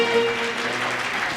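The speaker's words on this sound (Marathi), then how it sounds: "टाळ्या होऊन जाऊ दे एकदा जोरदार." An audience at an outdoor shahiri powada performance in Latur claps steadily, a dense wash of applause lasting about a second and a half with no speech.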